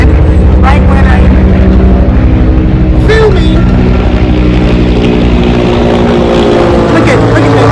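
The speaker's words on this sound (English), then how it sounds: "That's a helicopter that decided to start" Helicopter passing overhead outdoors, a loud continuous rotor and engine drone with steady low throbbing that fills the background while someone talks close by.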